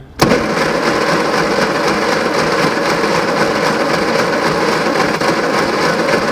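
An engine cranks continuously at full throttle during a compression test, a loud steady rapid churning that starts abruptly after a brief quiet moment and holds evenly to the end, with no talking.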